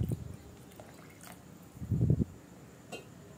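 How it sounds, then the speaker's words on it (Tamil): Water pours into a pot of village-style bottle gourd curry in short bursts, a soft splashing trickle near the microphone with quiet gaps between. "அதனால் இன்னும் கொஞ்சம் தண்ணி சேர்த்துக்கலாம்."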